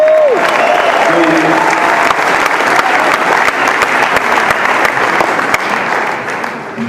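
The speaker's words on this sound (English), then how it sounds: "Give Nicole a round of applause" Loud, close audience round of applause, a dense continuous burst of clapping lasting the whole stretch with some crowd voices mixed in and a brief whistle-like tone at the start.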